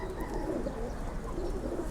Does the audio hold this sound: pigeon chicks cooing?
yes